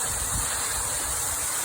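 A rain-swollen waterfall roars as a dense, steady rush of falling water, loud and constant throughout with no other sounds.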